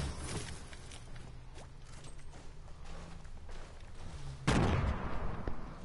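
RPG and grenade launcher fire in Fortnite: scattered, faint shots and mechanical clicks, then a sudden loud blast near the end that fades out, with no talk.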